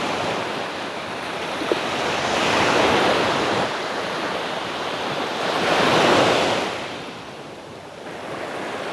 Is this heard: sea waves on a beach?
yes